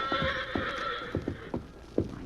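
A horse that has just taken a spill during a round-up whinnies in a sustained tone while hooves thud in irregular, fairly close beats as it struggles back up.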